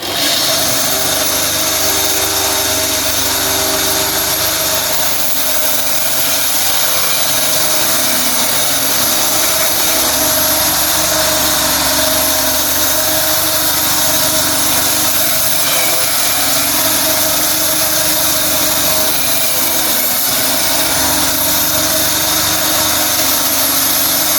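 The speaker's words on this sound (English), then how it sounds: "I'm going to cut these up with the bandsaw" Bandsaw cutting homemade waste firelighters into small sections, a loud continuous motor drone with a steady whine and slight variations as the blade bites, with no speech.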